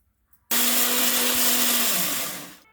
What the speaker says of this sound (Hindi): अब पालक को हम पीस लेते हैं मिक्सी जार में डालकर।